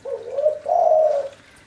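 A spotted dove (tekukur) coos nearby, giving a soft, low two-part call that swells into a longer sustained note before fading, with no other sounds around it.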